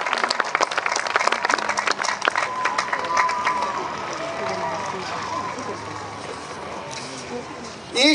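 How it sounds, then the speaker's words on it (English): A college audience applauds faculty members at a business school ceremony, with sharp individual claps at first that blend into a softer, steady patter as it fades. "Let's give them a big hand of applause."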